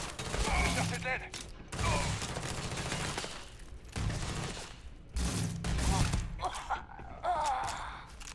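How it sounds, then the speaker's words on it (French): Three-round burst fire from a gun in the video game Starfield, clusters of quick sharp shots recurring several times with short gaps, close and loud, with someone speaking between the bursts. "À chaque fois que je tire 3 balles à chaque fois."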